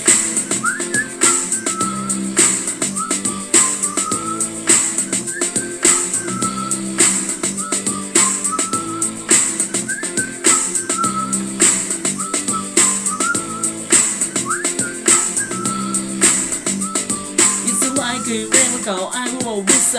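A person whistles a melody over a steady beat, clear bright whistled phrases repeating rhythmically for the whole stretch.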